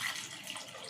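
Water poured from a glass into a cooking pot of tomato curry, a steady splashing pour heard close and alone for a brief moment.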